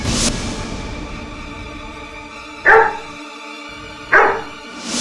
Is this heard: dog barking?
yes